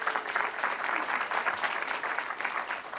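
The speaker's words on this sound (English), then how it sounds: "Big applause for Anthony." A conference audience at a tech talk on Python and .NET gives a speaker a welcoming round of applause: dense, steady clapping from many hands that fills the whole stretch, close and even, with no voices over it.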